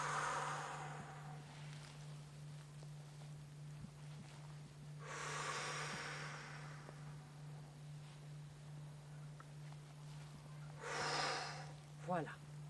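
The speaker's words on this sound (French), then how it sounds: "Et je souffle en faisant du bruit." Noisy open-mouthed exhalations during a rib-cage breathing exercise, three breathy whooshing breaths spaced several seconds apart over a low steady hum, fairly quiet and close.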